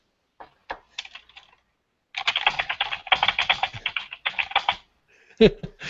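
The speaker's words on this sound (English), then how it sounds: "Yeah, we definitely hear typing." Rapid clicking of typing on a computer keyboard, a few scattered keystrokes first, then a dense burst of fast typing, close by.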